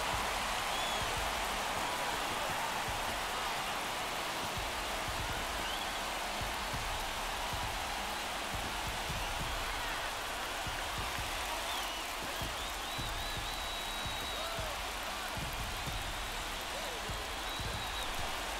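A baseball stadium crowd roars in a sustained, broad wash of cheering after a game-tying home run at a St. Louis Cardinals vs Minnesota Twins MLB game, with a commentator talking over it.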